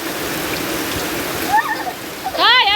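Heavy rain pours down in a steady broadband hiss near a shop, with a voice and some higher whistling sounds breaking through toward the end.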